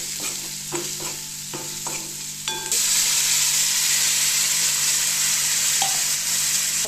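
A spoon scrapes and stirs a dried Bombay duck (bombil) curry mixture in a pan, a few distinct scraping strokes over a low sizzle, then a louder steady frying hiss takes over.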